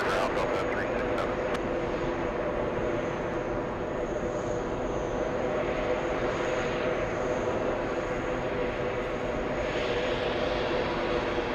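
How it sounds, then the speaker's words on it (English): An Etihad Airbus A350 taxiing toward parking at JFK airport gives a steady, continuous jet engine rumble and whine that holds at an even level throughout. "Etihad A350 going to the parking area"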